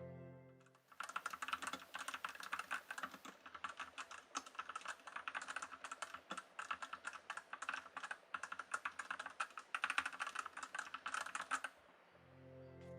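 Steady, fast typing on an unmodified Vortex VX5 Pro mechanical keyboard: dense, close keystroke clacks running continuously for about eleven seconds, with no talking.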